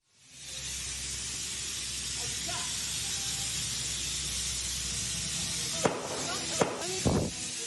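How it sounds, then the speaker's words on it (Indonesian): A handheld fire extinguisher sprays on a burning motorcycle at a petrol station in West Bandung, a loud continuous hiss lasting several seconds, broken near the end by a few sharp knocks and brief sounds. "Sejumlah operator SPBU dengan sigap berupaya memadamkan api dengan alat pemadam api ringan"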